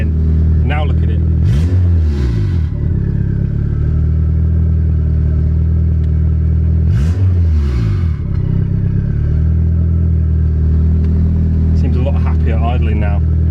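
A turbocharged Honda B18C4 engine in a Civic EF fires up for the first time after the turbo build, a loud steady idle with repeated revs rising and falling, and people talking near it.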